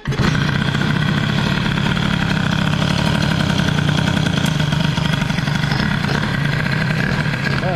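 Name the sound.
Peugeot 103 moped engine with Airsal 65 kit starting and idling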